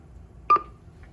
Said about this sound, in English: It will wait a few seconds and start to beep.